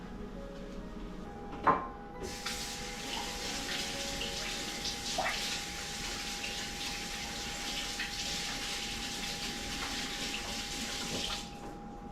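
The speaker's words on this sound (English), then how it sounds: "Let me rinse my fingers real quick here." Fingers being rinsed under a running kitchen tap, a steady gushing stream that starts after a short clunk and runs for about nine seconds before cutting off, close and clear with no talk.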